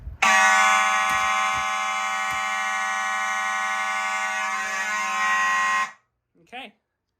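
A building fire alarm system sounds during a pull station test, a loud steady electronic horn tone that holds for about six seconds, cuts off when silenced, and is followed by a brief faint chirp.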